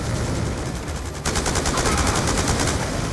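Rapid automatic gunfire from the game Call of Duty Black Ops II, a loud continuous burst of fast repeating shots over dense battle noise, starting abruptly partway through and running to the end.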